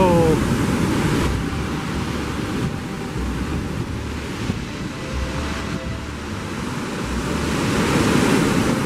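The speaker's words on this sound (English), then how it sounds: "And this is the angriest I've seen the water. I think it's starting to wash the beach right away." Rough, angry ocean surf washes steadily onto a beach at a Grand Fiesta Americana resort, a loud continuous roar of breaking waves mixed with wind buffeting the microphone.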